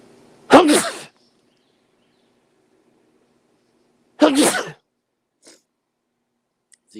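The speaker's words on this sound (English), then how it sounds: "I'm gonna sneeze." Two sharp, loud human sneezes come close to the mic about four seconds apart, separated by near silence, with a few faint small noises trailing after.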